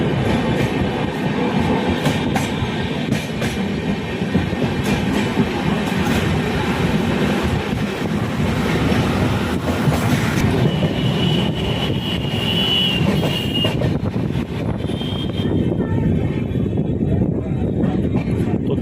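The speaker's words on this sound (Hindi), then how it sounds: "अब कुछ ही मिनटों में अपनी ट्रेन जयपुर जंक्शन पर पहुंचने वाली है" Passenger train rolling toward Jaipur Junction in India, heard from inside with a loud, continuous rumble of wheels and carriage noise and faint clickety-clack, with a few brief higher squeals near the end.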